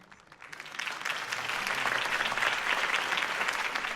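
A crowd bursts into sustained applause at a political campaign speech in Batman: The Telltale Series, swelling within the first second and then holding as a dense, steady clapping roar.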